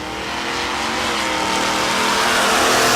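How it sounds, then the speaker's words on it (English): A drag race car roars down the strip at a raceway, its engine rising steadily in a loud, continuous accelerating wail as it works through the gears. "Knutson grabbing gears in the box."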